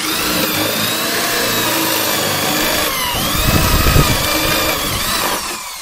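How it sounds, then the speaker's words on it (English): A power drill whirs steadily and loudly for several seconds, its pitch dipping and straining midway as it bites into a log, then easing off. "Both hands on the drill."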